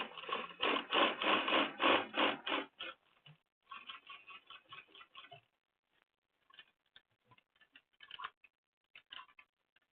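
A sewing machine stitches a leather tote bag, running in a fast, steady burst of close mechanical ticking for a few seconds, then continuing in shorter, sparser runs of stitches with pauses between.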